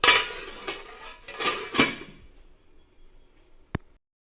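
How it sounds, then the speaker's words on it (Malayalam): A lid goes onto a pot of mango and drumstick curry: a few light metallic clinks and rattles, then a lull and a single sharp clank near the end. "ഇനി ഇത് നന്നായി ഒന്ന് വെന്ത് വരട്ടെ, അടച്ചു കൊടുക്കാം"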